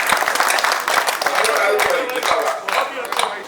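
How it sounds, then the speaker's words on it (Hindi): An audience at a Hindi poetry stage show claps and applauds for the poet, a dense, lively burst of many hands close by that tapers off toward the end, with a voice over it. "अगर आप मुझे तालियां बजाकर आदेशित करें"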